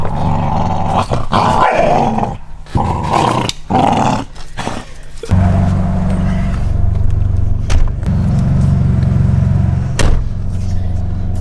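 A dog growls and snarls in rough, rumbling bursts close by, with a steady low engine-like hum underneath.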